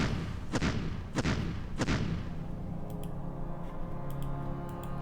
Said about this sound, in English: Let's try and soften this guy up a bit here with some artillery fire.